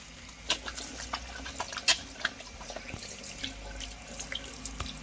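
Tilapia being washed under a running tap into a sink, with steady flowing water and intermittent splashes and sharp drips as the fish is handled, fairly quiet and without talk.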